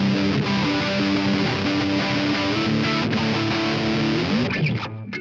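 An electric guitar through a Yamaha THR amplifier set to an ultra-high-gain, modern American tone plays heavily distorted, sustained chords and riffs, loud and alone, with a short break near the end.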